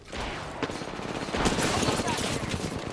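Rapid automatic gunfire crackles in a sci-fi shooter match, dense bursts layered with impacts and effects, loud and close, with a player voice talking over it.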